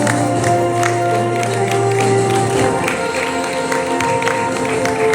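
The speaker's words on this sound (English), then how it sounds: "Can give a huge round of applause as they're becoming a part of the IPCC family." Audience at a Punjabi Ratan Awards anniversary ceremony breaks into sustained loud applause and cheering, a dense wash of clapping with scattered whoops over a steady hum from the hall's sound system.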